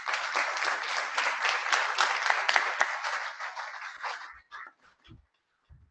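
A conference audience applauds a speaker at an election session, with dense clapping for about four seconds that thins out into a few scattered claps and then falls silent.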